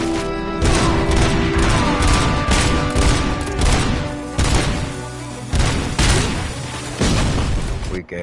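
Rapid pistol gunfire in the shooter game Robocop Rogue City, loud repeated shots with heavy booming impacts over a dense battle soundscape, continuing throughout.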